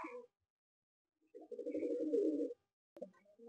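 A pigeon in a loft in South 24 Parganas gives a deep, throaty coo lasting about a second, close and clear, with brief bird sounds before and after and quiet gaps between.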